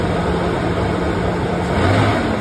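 A 2007 Toyota FJ Cruiser engine running steadily after a cold start, a continuous low rumble with a faint rise in pitch near the end, close and fairly loud.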